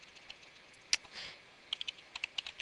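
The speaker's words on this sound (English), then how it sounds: "So in capitals again, we're going to be typing grizzlies." Keys clack on a computer keyboard in quick, irregular taps, a few isolated presses followed by a brisk run of keystrokes, close and fairly quiet with no talking.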